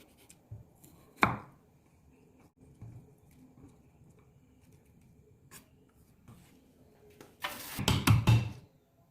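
A knife slices carrots on a cutting board: one sharp chop early on, then quiet, then a quick close flurry of rapid chopping strokes near the end.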